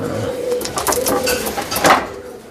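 A racing pigeon of the Chinese line coos in a loft while eggs are checked before a race, giving soft, close, rounded calls over about two seconds with faint handling noise behind.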